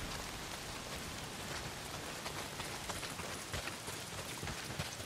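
Heavy rain in the video game Days Gone pours down as a steady, dense wash of drops with scattered sharper patters on nearby surfaces, constant and fairly quiet, with no talk over it.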